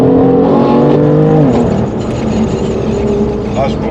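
BMW M4 and M3 cars driving, with loud steady engine drone and shifting harmonic tones as the revs rise and fall, near and continuous throughout.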